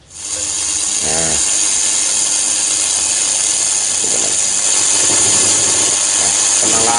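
An old Telesonic one-band shortwave transistor radio is switched on and quickly settles into loud, steady static hiss, with a few faint warbling tuning tones over it.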